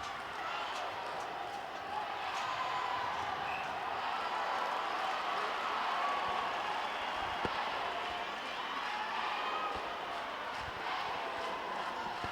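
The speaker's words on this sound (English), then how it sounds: "The crowd are definitely enjoying themselves today." A crowd at a Botswana v Uganda netball match makes a steady, distant wash of cheering and chatter, with a commentator talking over it throughout.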